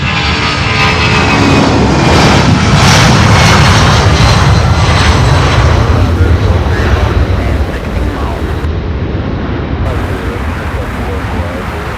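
A Boeing 757 jet airliner takes off at night at Louisville's UPS Worldport, a loud, broad engine roar that swells and then eases slightly as the aircraft climbs away.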